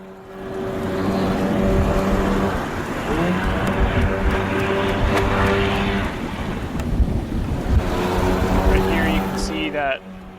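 A jet ski in a video game prototype moves across water with a steady engine drone and continuous spray and wind-like rush, loud throughout and dropping off at the very end.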